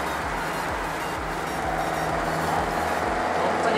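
Car with its factory stock muffler pulling away from a traffic light, a low engine rumble that rises steadily as it accelerates, heard from inside against road noise.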